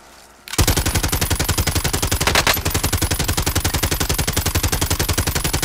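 Rapid sustained machine-gun fire from Call of Duty Warzone, a loud, evenly spaced burst of shots running without pause after a brief quiet start.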